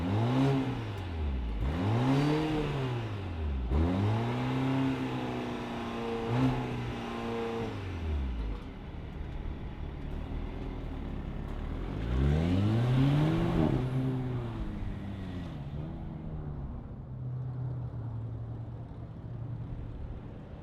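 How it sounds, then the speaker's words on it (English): A 2021 Polestar 1 AWD performance car starts up and revs, its engine swelling and falling in several loud sweeping revs before settling into a steady idle, heard close with no talk. "let's fire it up and hear if it makes any good sound"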